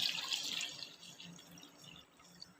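Water poured into a cooking pot over peeled taro roots before boiling: a brief splashing pour, bright at first and then fading into faint trickling and dripping, with no talking.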